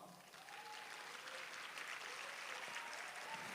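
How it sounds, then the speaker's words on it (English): An audience at a sales and recruitment seminar applauds in a steady, even round of clapping that holds at moderate level throughout, somewhat distant, with faint tonal hum in the background and no speech over it. "Can you give me a round of applause?"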